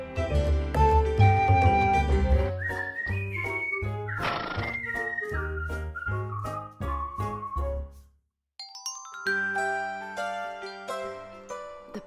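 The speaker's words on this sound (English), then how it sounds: "The ponies are ready on their adventure off to the poppy fields. Here they come." Shetland ponies whinnying on a morning ride to poppy fields, with loud repeated neighs up close over the first eight seconds, a brief jingle of tack in the middle, then a final long whinny after a short pause; no clear hoof clip-clop stands out.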